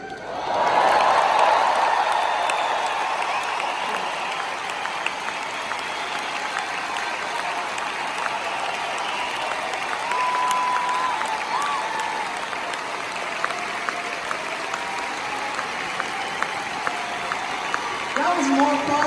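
Concert arena crowd in Hamburg applauding, a long, loud wall of clapping that swells at first and holds steady for many seconds, with scattered cheers, whistles and occasional sharp claps standing out.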